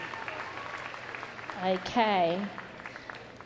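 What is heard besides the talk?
audience applause at Crufts dog show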